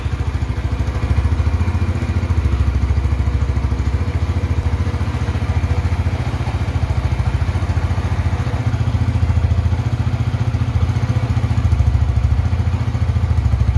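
A 2011 Honda Tiger Revo motorcycle engine idles steadily and close by, a continuous low rhythmic thrum with a slight mechanical clatter and no speech.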